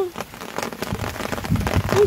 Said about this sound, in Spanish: Ay, empezó a llover.